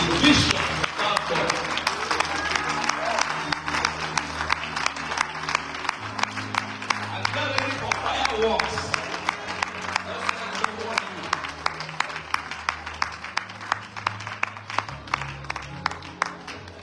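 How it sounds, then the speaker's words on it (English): An audience at a church conference session gives a sustained round of applause for a bishop, a dense wash of many hands clapping throughout, with music playing underneath. "join me with a clap offering"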